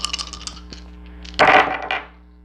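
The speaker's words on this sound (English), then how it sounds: "I'm gonna roll the astro dice to get more of an insight here." Small astrology dice clatter and rattle as they are rolled and tumble across a hard surface, a bright close-up burst of clicking that settles after about a second.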